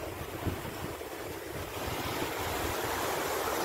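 Sea waves wash onto a beach in a broad, constant surf roar mixed with wind buffeting the microphone, building slightly louder midway.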